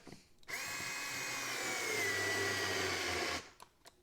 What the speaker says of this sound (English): Make sure I'm not screwing into anything underneath here.